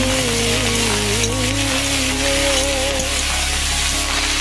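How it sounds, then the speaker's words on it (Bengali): Bathua greens fry in a pan with garlic and chili, a loud, close, unbroken sizzle filling the whole stretch with no voices. "ভালো করে নেড়ে চেড়ে ভেজে নেব।"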